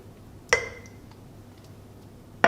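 Ice cubes drop into a blender jar holding a drink mixture, two sharp glassy clinks about two seconds apart with quiet room tone between.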